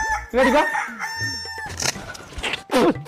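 A rooster crows loudly and close, a long drawn-out call, followed by clucking and another brief crow.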